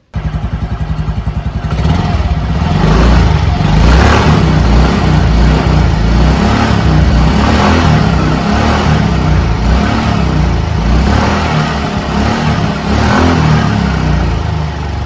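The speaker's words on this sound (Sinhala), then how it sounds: "දැන් අපි බලමු මේ එන්ජිමේ එක්සෝස්ට් සවුන්ඩ් එක කොහොමද කියලා" A 2025 Yamaha Ray ZR 125 Street Rally scooter's engine exhaust is revved up from a quieter idle into a loud, sustained, rumbling drone that holds with slight fluctuations, close to the microphone and with no voices.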